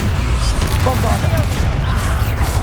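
Bombarda spell blasts in the video game Hogwarts Legacy, a loud crackling rumble like rapid gunfire rolling steadily throughout, with game voices shouting over it.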